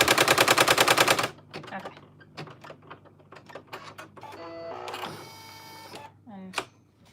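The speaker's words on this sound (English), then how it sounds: "now it will start stitching" An embroidery machine stitching fabric appliqué in a hoop gives a fast rhythmic mechanical rattle for just over a second, then stops, followed by scattered clicks, handling noises and a brief spoken word.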